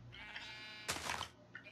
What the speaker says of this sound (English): And I have a sheep farm.